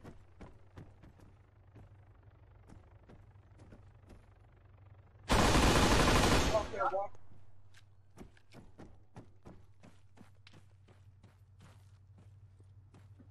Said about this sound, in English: I can hear that we've got some incoming enemy grenades